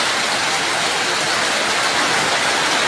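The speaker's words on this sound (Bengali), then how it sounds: "দেখেন কত সুন্দর বৃষ্টি হচ্ছে" Steady rain falls in a dense, even wash of hiss that runs unbroken throughout, with no voices.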